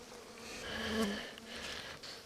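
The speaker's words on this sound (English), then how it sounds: "I got a bunch of bees coming at me, and they want to sting me" Honey bees buzzing around an open hive frame, a near, swelling drone that rises and falls as individual insects fly past the microphone.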